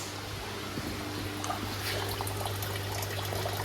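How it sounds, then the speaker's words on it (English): Water overflows constantly from a faulty float valve, a steady close trickle and dribble of running water that carries on without a break. "It's just a float valve angle down there. You can see there, that's constantly running."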